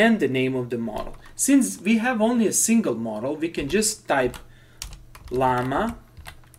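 Keys clatter on a computer keyboard as a command is typed into a Linux Ubuntu terminal. The light clicks come in short runs, mostly under a person talking and briefly in the pauses.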